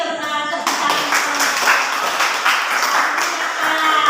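A classroom group claps together in a dense, steady burst lasting a few seconds, fairly close and loud, with no one speaking over it.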